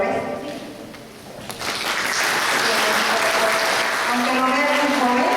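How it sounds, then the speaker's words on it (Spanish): Applause welcomes the first speaker at an event, building from a quieter start into a steady, full round of clapping, with voices faintly mixed in underneath. "quiero pedirles un fuerte aplauso para nuestro primer ponente"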